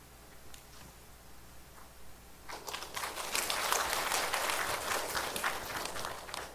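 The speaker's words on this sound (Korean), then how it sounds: "네, 고마움의 박수를 부탁드립니다." A church congregation at a Sunday morning service breaks into applause, the clapping swelling and staying dense and steady after a few scattered early claps.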